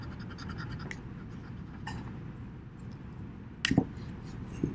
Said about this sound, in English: And I'm going to erase this.